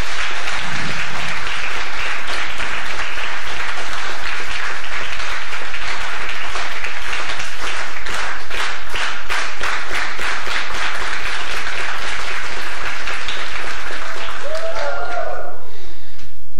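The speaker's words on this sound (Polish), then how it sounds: "Wielkie brawa." A large audience applauds after a talk at a Wołczyn gathering, loud sustained clapping that swells into a few rhythmic waves before fading near the end, with a voice briefly audible.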